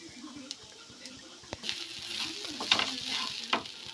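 Grated coconut and asafoetida fry in coconut oil with a soft, steady sizzle; a few light spoon taps come first, then louder stirring and scraping swells in the pan.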